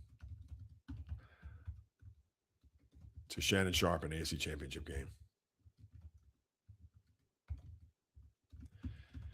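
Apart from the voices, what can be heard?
typing on a computer keyboard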